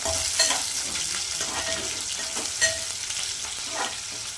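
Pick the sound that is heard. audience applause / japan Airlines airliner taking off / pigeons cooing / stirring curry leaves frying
stirring curry leaves frying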